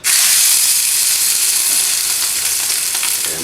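Pork tenderloin, sous vide cooked and brined, searing in a hot pan, giving a loud, steady, close sizzle that holds constant throughout with no talking.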